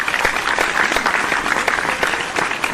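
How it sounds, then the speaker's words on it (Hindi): Audience applause at an annual school ceremony, a brief, even burst of many people clapping together, steady and fairly loud throughout. "तो इनके लिए भी बहुत सारी तालियां।"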